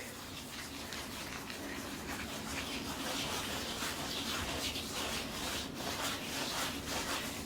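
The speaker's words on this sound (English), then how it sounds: "the purpose of this first tarletan is simply to get the bulk off, to get any squeegee marks off" Tarlatan cloth wiped over an inked carborundum collagraph plate, a close, continuous scratchy rubbing in quick back-and-forth strokes with no talking.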